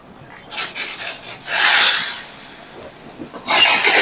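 Roasted peanuts being drained out of hot salt for salted groundnuts, heard as a dry gritty rasping and rattling of nuts and salt grains shifting against a metal pan, in several bursts with short pauses, close and fairly loud, with no talk.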